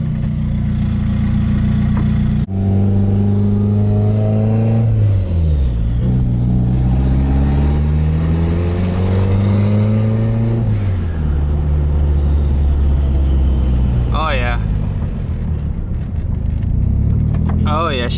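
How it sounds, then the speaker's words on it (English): A turbocharged Mitsubishi Eclipse with a 4G63 engine accelerates on the road, its engine note climbing loudly through several gears with clear drops at the shifts. A voice talks briefly over the steady engine roar. "Let's go take this thing for a drive, make sure everything's good."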